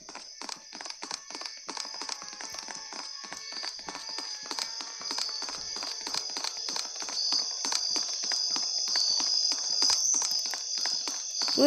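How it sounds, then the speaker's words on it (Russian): Rapid running footsteps of a killer clown chase the player in the Death Park horror video game, a steady stream of quick, sharp taps that continues throughout and grows slightly louder. "Ну я слышу его шаги сзади себя. Он за мной бежит."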